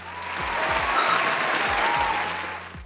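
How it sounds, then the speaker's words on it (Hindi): Studio audience applauding to welcome two guests onto a Hindi comedy talk show, a steady wash of clapping that swells and holds for about three seconds with no talk over it. "पहले एक बार जोरदार तालियां"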